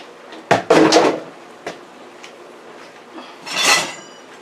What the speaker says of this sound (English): now we have to add our peppers and onions to make our stir fry